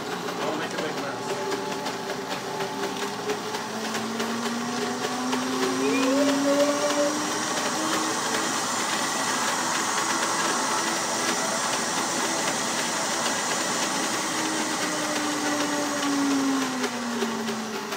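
A blender whirring steadily as it mixes homemade peanut butter in a kitchen, a continuous motor drone with slight pitch shifts as the load changes, fairly quiet and steady throughout.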